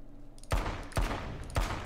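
Three sharp, loud gunshots from a pistol in H1Z1: King of the Kill, evenly spaced about half a second apart, each with a booming low thud and a brief decay, fired while aiming down the sights.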